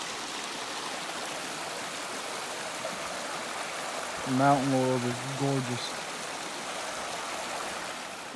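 A small creek at an Appalachian Trail crossing near Three Forks Gap, clear water rushing in a steady broadband wash throughout, with someone briefly speaking over it midway.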